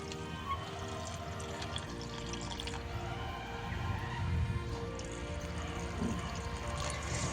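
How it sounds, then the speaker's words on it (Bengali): Rice-washing water poured onto potted flowering plants, a soft continuous splashing and trickling with faint drips, close by and moderately quiet throughout. "চলো গাছে জলটা আগে দিয়ে আসি, আর আলাদা করে মগে নেবো না। চাল ধোয়া জলটা দেওয়ার পর"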